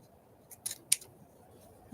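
Scissors cut through magazine pages with two or three crisp close snips in quick succession, sharp and distinct over a quiet room.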